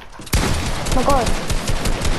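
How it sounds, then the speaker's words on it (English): An assault rifle fires in Fortnite in a dense, continuous burst, loud and close, with a voice briefly heard over the shooting. "Look who's spamming their AR now."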